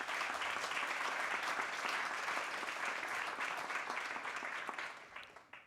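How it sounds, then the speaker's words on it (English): A conference audience at a closing plenary in Madrid applauds their hosts with dense, sustained clapping that holds steady and then tapers off toward the end. "Please, an applause for them"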